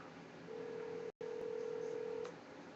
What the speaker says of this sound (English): You're calling Ludo again.